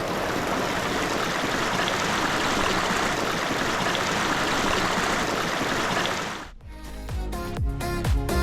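Mountain stream on a Bucegi trail rushing steadily near a forestry house, a loud continuous broadband wash of water that cuts off abruptly near the end into other brief sounds.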